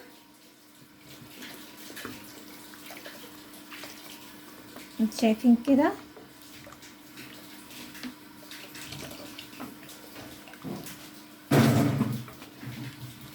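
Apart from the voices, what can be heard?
pouring two cups of water into lentil soup pot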